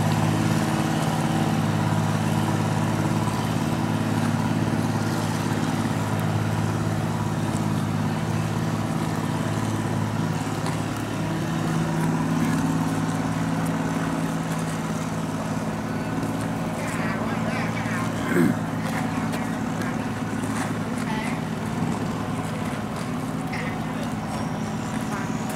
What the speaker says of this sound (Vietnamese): Tới lượt chiếc xà lan lớn này chạy ra